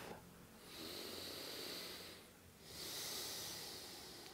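Two slow, deep breaths drawn audibly through the nose and released during a gentle yoga relaxation, each a soft, airy rush close to the microphone with a brief pause between them.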